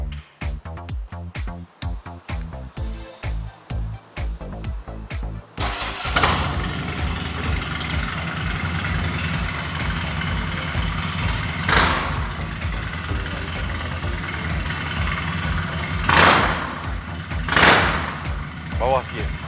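A motorcycle fitted with a TBR 2into1 Competition Series exhaust cranks over with rapid chugging, fires up and settles into a loud, steady idle with occasional blips of the throttle, while someone talks nearby.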